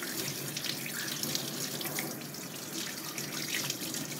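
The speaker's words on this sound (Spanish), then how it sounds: "ahora le vamos a echar agua, tratar de quitar todo el jabón y que no quede nada" Lukewarm tap water runs steadily from a faucet to rinse soap off orchids, a continuous, fairly loud splashing flow without any talk.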